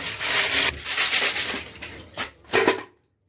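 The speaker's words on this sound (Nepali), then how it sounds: "यसलाई यसमा यता खन्याएर अब यसलाई एक पानी मजाले धुनु होला" Boiled water snails being rinsed with water in a vessel, giving close, steady swishing and rubbing with watery splashes, a couple of sharper sloshes near the end, then sudden silence.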